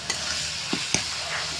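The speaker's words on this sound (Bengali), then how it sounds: "দিয়ে দেবো হলুদ গুঁড়ো। ভালো করে নাড়াচাড়া করে নেবো প্রথমেই।" Red amaranth greens with turmeric powder stirred in a pan, a soft sizzle with a few quick scraping clicks of the spatula, close and alone.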